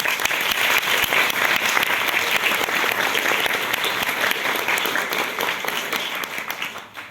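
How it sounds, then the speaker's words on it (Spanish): Theatre audience in Peru applauding a drama teacher, a loud, dense burst of many hands clapping that holds steady for several seconds before tapering off at the end. "Un aplauso para él, por favor."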